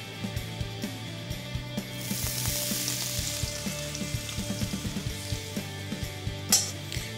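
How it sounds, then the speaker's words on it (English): Cut asparagus frying in sesame oil in a pan, a steady close sizzle with frequent light clicks and scrapes from stirring, swelling briefly louder midway. "cook the asparagus in sesame oil"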